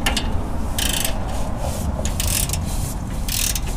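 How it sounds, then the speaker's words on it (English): GearWrench flex head ratcheting wrench backing off a bolt on a rear differential skid plate of a 5th gen 4Runner, giving bursts of rapid ratchet clicking and metallic rasping over a steady rumble, close and loud. "So I'm going to use a flex head ratcheting wrench from Gear Wrench to loosen this one up."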